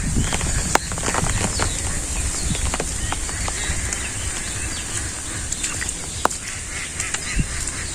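Village ducks call in rainy weather, with scattered honking and quacking calls of a few birds over a steady hiss of background rain.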